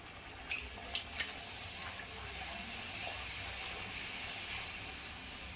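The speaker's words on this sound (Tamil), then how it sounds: "எண்ணெய் சூடாயிடுச்சு. ஒவ்வொரு பூரியாக போட்டுக்கலாம்." Puris dropped one at a time into hot oil give a steady, soft frying hiss with a few faint crackles near the start, close by and with no talking.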